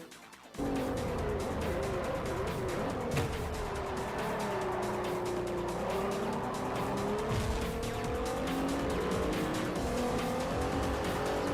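Race cars including a Nissan GT-R R35 roar in Forza Motorsport 4, one engine loud and close as it revs and shifts, with tires squealing and other cars around it.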